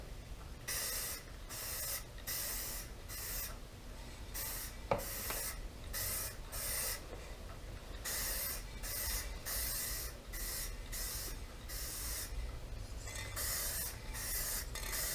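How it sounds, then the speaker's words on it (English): Light coats of clear coat are sprayed onto a car fender in a series of short hissing bursts separated by brief pauses, close and steady, with no talk. "I'm going to try and haze on the clear coat so that it doesn't do what it was doing"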